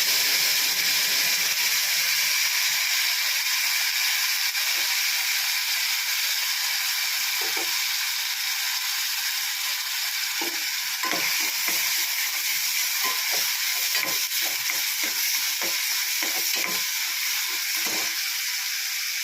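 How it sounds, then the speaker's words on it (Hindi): Onions fry in refined oil with cumin for chhole masala, giving a steady close sizzle and hiss with scattered crackles and pops. "पियाज पकईदेली"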